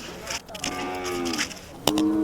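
A bull at a Khillar cattle market in Sangola gives a loud, drawn-out moo close by. A second, shorter call starts near the end over a busy outdoor background.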